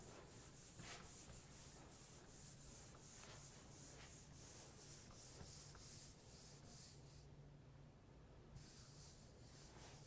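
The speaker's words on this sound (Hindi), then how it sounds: "इसको हम पूरा रब कर देते हैं।" Steady rubbing of a duster across a classroom board while erasing a lecture diagram, continuous rhythmic scraping strokes close by with a brief lull near the end, no talking.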